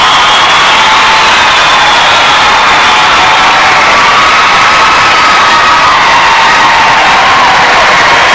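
Cheering from the Westminster Kennel Club dog show crowd in 1993 roars steadily and loudly through the whole stretch, a dense, sustained wash of shouting and whooping from a large arena audience.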